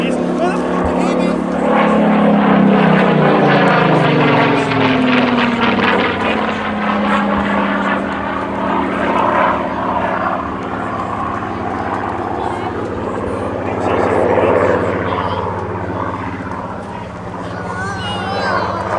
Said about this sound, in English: This is truly a World War II operational aircraft.